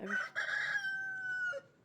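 A rooster crows once, loud and close, in a long drawn-out call that holds its pitch, then breaks off.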